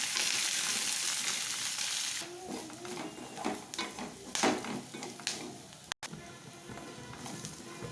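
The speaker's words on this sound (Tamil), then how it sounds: "பிரண்டையை நல்லா வதக்கி எடுத்துக்கலாம்." Pirandai (adamant creeper) sautéing in a pan, a strong crackling sizzle at first that drops to a softer fry broken by several scraping stirs and a brief cut, close and without talk.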